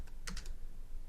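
Keys clack on a computer keyboard while code is entered, a short close burst of several quick taps with no talking.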